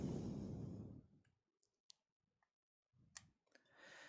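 Cutters snip the excess component leads on a tetrode circuit board. A few sharp, close clicks sound in a quiet room between soft bursts of rustling handling noise.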